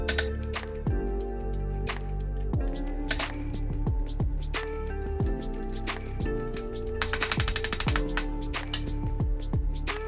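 Dowel being punched out of a Tuttio Soleil piano keyboard, a series of sharp metallic taps and knocks at irregular intervals, close and fairly loud, with a quicker burst of rattling strikes near the end.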